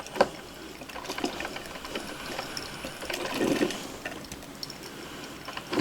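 A coffee maker brews hot chocolate, water gurgling and flowing through with a low pumping hum and a few clicks, close and moderately loud, no voices.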